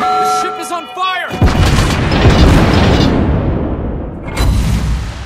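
Naval gunfire strikes an enemy ship in a naval warfare video game with the Anchorage cruiser, a deep booming explosion that rumbles and fades over several seconds, following brief game voice chatter and a short second burst near the end.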